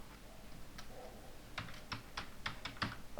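Keys clatter on a computer keyboard as someone enters lab code, a close, quiet run of uneven clicks that grows busier toward the end against a low room hum.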